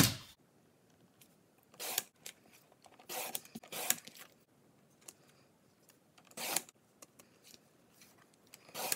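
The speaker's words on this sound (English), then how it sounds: "Let me cut the rest of the borders" Scissors snip through paper scrapbook borders in short, crisp bursts spaced a second or two apart. The snips are close and quiet, with near silence between them.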